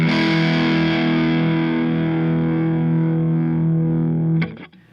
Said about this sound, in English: I'm going to switch over now to a little bit more gain, a lot more gain.